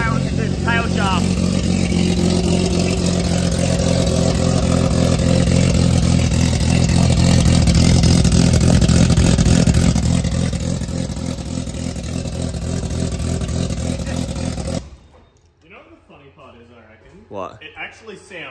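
A Nissan R33 Skyline's turbocharged engine with its exhaust removed runs loud and rough, revving up and holding with a harsh, raw roar, then cuts off abruptly, leaving people talking nearby.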